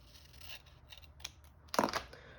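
Scissors cutting paper for an art journal: a few soft, faint snips followed by one sharper, louder cut near the end, in an otherwise quiet room.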